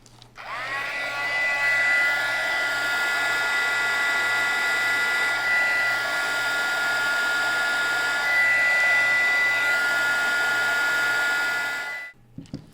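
Heat gun melting a flower cut from a discarded plastic soda bottle: a loud, steady close blower roar with a high whine starts abruptly, holds evenly for about eleven seconds, then cuts off, with no talking.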